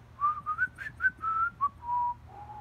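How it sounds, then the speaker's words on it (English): A person whistles a simple tune, a clear melodic phrase of short and held notes, close and alone. "He whistled all the way there"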